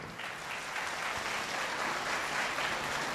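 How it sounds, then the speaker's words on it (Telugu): An audience in a hall claps hard, giving a steady, dense wash of applause that holds at even loudness throughout with no talk over it. "చేసుకోమన్న వాళ్ళు గట్టిగా చప్పట్లు కొట్టండి ఒకసారి"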